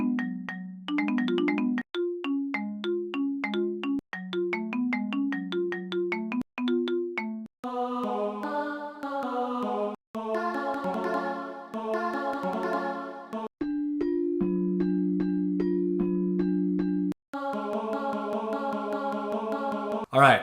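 A freshly generated synth melody in Logic Pro for a trap beat: bright bell-like plucked notes in a bouncy pattern, then chordal pad-like passages and a held low tone, clear and steady with no talking.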